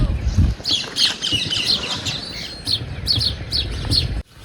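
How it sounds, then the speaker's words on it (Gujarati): Birds chirp and tweet in quick, repeated bursts at a hill outing, clear and fairly close over a low murmur of background noise. "આવી ગયા છે પક્ષી"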